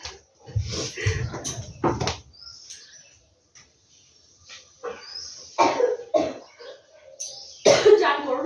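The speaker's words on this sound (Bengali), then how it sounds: "অসম্ভব কাশি বেড়ে গেছে" A person coughs in short bursts indoors, several rough, close coughs and throat clearing spread across the span, with quiet gaps between them and faint bird chirps in the background.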